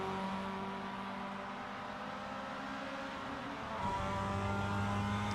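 Mazda MX-5 race cars circulate at the Long Beach street circuit, engines droning steadily up close, with a sharp surge in engine noise near the end as more cars pile through.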